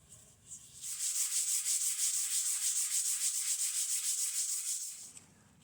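Wood being sanded by hand with a 320-grit sponge sanding pad, a steady rhythmic rasping rub of back-and-forth strokes lasting several seconds, close and clear, with quiet pauses before and after.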